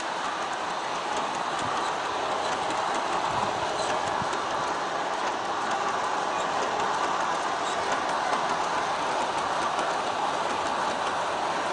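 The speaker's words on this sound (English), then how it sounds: "4 locos can do it, but with a little bit of wheel slip on the grade." An Aristo-Craft model train with four locomotives hauls forty refrigerator cars up a grade, wheels slipping a little; a steady dense rumble and clatter of wheels on track runs continuously, close and even, with no voices.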